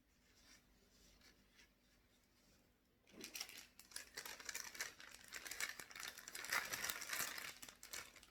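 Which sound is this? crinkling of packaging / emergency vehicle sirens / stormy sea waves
crinkling of packaging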